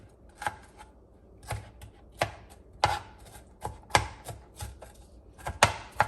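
A knife chopping tomato finely on a board, a dozen or so uneven, sharp close taps spaced irregularly, with no talking.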